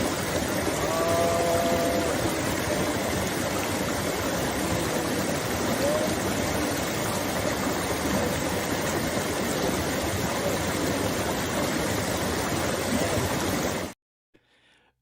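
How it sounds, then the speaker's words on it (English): A mountain stream near Mount Shasta rushes steadily and loudly, a dense, unbroken wash of flowing water that fills the scene up close for about fourteen seconds before cutting off abruptly. "the sound of the stream was quite loud"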